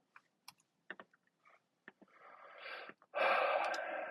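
Typing on a computer keyboard: scattered individual key clicks at first, then a denser run of keystrokes building into fast continuous typing, close and quiet, with no talking.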